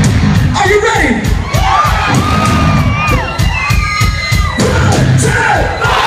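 A rowdy rock concert crowd at a Papa Roach show yells a chant back at the singer, loud and close with cheering and whoops, voices shouting over a dense roar.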